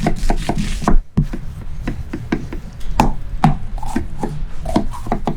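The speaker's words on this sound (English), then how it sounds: "Cut the vegetables into pieces." A knife chops vegetables into pieces on a cutting board, a steady run of sharp, close knocks in quick irregular rhythm, loud and alone.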